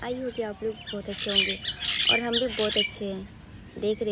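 Birds squawk and chirp outdoors in repeated short bursts, fairly close and steady, running beneath a person speaking Hindi in a casual vlog.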